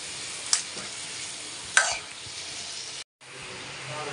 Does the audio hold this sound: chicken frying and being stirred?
yes